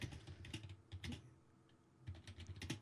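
Fingers tap on a computer keyboard in quick irregular bursts of clicks, close and fairly quiet, with a short pause midway.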